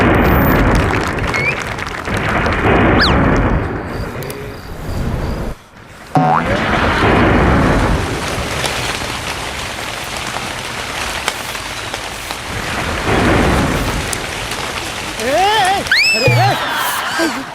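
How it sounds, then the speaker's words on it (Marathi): A sudden heavy downpour drums steadily on surfaces, briefly cut off once, then resumes under bouts of talking and some cartoonish boing-like effects near the end; no clear thunder. "काय अचानक पाऊस आला ना"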